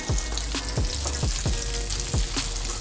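Butter sizzles in a pan for roasting hake, a steady bright crackle with repeated soft scraping or clinking sounds at a regular pace, close and continuous without voices.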